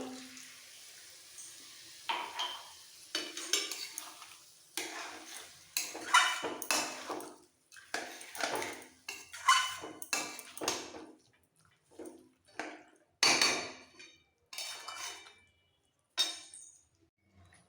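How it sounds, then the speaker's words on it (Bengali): A pot of fish head and cabbage curry with potato is stirred repeatedly, with bursts of clattering and scraping against the pot, separated by short pauses. "বারবার ওপর নিচ করে নাড়াচাড়া দিতে হবে"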